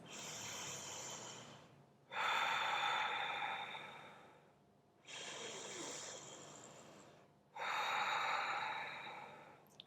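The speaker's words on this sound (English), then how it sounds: "Let's take 3 breaths" Slow, deep breathing during a vinyasa yoga session: long drawn inhales alternating with long exhales, each lasting over two seconds, close and soft with brief pauses between.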